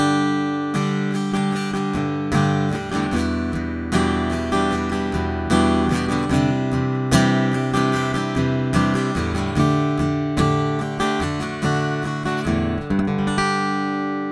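An acoustic guitar with the Fishman Aura image blended half-and-half with the under-saddle pickup plays a continuous strummed, picked passage, close and full, without any voices.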